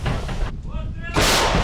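Two powerful booms from a self-propelled howitzer firing, close and loud, separated by a brief, quieter rumbling lull.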